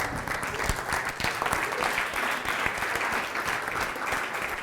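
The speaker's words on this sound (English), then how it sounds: "can we all stand up, give a massive applause for Jeanne" Audience applause at a Startup Grind Cape Town event, a sustained, dense wash of clapping from a large crowd that stays loud and steady throughout without a break.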